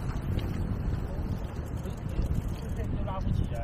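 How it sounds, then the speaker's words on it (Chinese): Strong seaside wind buffeting the microphone beside a camper van, a constant loud roaring rush that fills the whole moment. "你看这海边的风有多大就好。"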